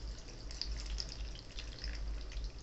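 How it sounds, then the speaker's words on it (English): Water trickles and splashes softly, poured in a quiet, steady stream into a plant propagation box with moss, with a low hum underneath. "you're going to pour your water into your prop box"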